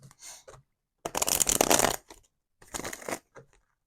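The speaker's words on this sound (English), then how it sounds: "I'm gonna shuffle these cards" Tarot cards being shuffled in a few short bursts, one longer riffle in the middle, close and fairly quiet with gaps of silence between.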